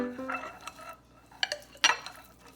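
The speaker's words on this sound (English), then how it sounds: "we're going to mix the whole thing now" Seasoned salmon gets mixed in a bowl, with soft, scattered clinks and scrapes of utensils against the dish, a couple of sharper knocks standing out, quiet and close.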